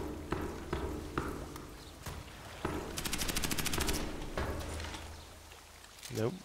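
A marksman rifle fires in the online shooter Contract Wars, producing scattered muffled shots and a brief rapid burst in the game mix, with someone speaking faintly over it.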